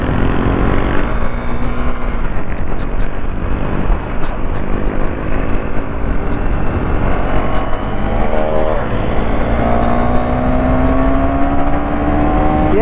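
RC 390 and Duke 390 motorcycles race on a road, their engines droning loudly and climbing in pitch as they accelerate, with wind noise and a rider talking over the roar.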